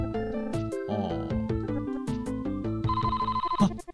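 A telephone rings in Famicom Detective Club II on the Super Famicom, with bright synthesized electronic tones chiming in a quick repeating pattern, loud and alone.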